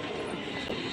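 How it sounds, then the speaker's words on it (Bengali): A train pulls into a station as a dense, steady rumble and hiss of rolling wagons, loud and close, with no clear speech. "ট্রেন ঢুকছে এখনই"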